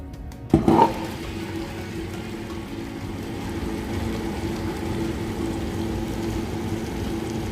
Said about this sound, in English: I'm using a grinder to grind this batter.